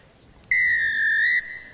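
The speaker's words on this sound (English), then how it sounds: "Jess Kavanagh with a whistle in her hand, former Wales international." Referee's whistle blown once for a rugby kick-off in a women's Celtic Challenge match, a single loud, sustained shrill blast lasting about a second over faint stadium background.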